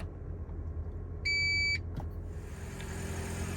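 A single bright electronic confirmation beep from a Toyota's seat memory system, roughly half a second long, over a low idling car hum, followed by a faint click.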